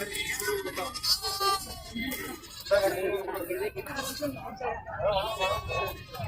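Goats bleat repeatedly at a livestock market where goats and kids are traded, the calls rising over a steady crowd murmur with people talking nearby.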